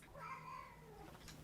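A house cat meows once on a bed indoors, a drawn-out, close cry that fades into quiet room noise.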